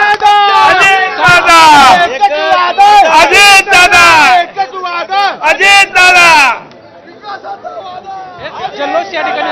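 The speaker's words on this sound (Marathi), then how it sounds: "अजित पवारांच्या कार्यकर्त्यांमध्ये जल्लोष" Crowd of Ajit Pawar's party workers celebrating an election result outside the party office, loud overlapping shouts and chanting voices close by, dropping to softer chatter toward the end.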